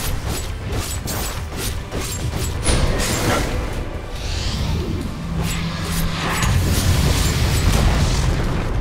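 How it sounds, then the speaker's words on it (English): A tower collapses in Dota 2 amid continuous battle noise: deep booms and crunching, rattling mechanical impacts roll through a busy, loud mix, with a low sustained tone midway and no talk heard. "Dire's middle tower has fallen."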